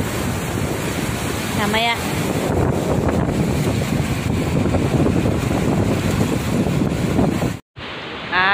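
Sea waves and wind roar steadily on a seashore at night, a broad continuous rush with wind buffeting the microphone, a short bird-like chirp early on and brief speech near the end.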